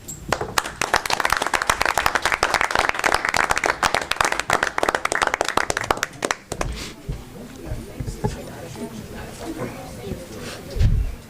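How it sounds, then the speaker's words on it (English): People at a school board meeting applaud in a crisp burst of clapping for about six seconds, then it stops and low room murmur and shuffling follow, with a thump near the end. "let us clap for you"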